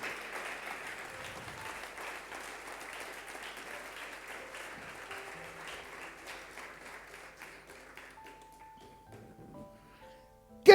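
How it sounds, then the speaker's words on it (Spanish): A church congregation applauds in a sustained, moderately distant round of clapping that gradually fades, with faint tones from the room in the last few seconds. "Si le va a aplaudir a Dios, aplaudirle con fuerza, con entendimiento."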